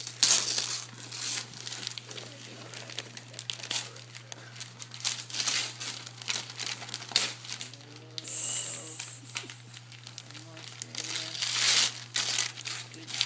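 Gift wrapping paper is torn and crumpled in bursts of close crinkling and ripping, irregular throughout, with quiet talk in between and a faint steady hum underneath.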